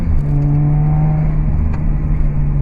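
Subaru Legacy fitted with a swapped H6 flat-six engine, running loud and steady close by with a sustained droning rev and a low, throaty exhaust tone, no voices over it.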